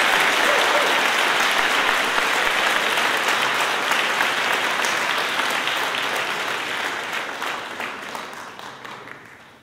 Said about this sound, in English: let's give an applause, even though they're not here, to the class of 2024 for writing these beautiful notes